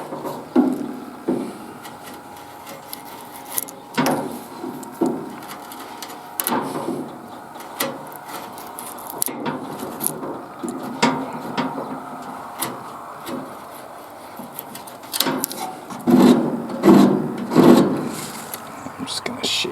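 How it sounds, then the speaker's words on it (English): A hand tool shaves the wooden edges of a park bench outdoors, giving repeated short scraping strokes at an irregular rhythm that grow heavier and rougher near the end, with faint speech in places. "I'm just going to shave off the edges. Round it off a bit."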